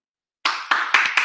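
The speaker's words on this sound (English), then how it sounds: "Give Janice a round of applause." A short burst of applause starts abruptly after a brief silence, several claps ringing out close together, loud and near.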